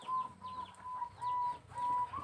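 A zebra dove (perkutut) coos in repeated soft, rhythmic phrases, each a short rolling series of notes separated by brief pauses, close and clear.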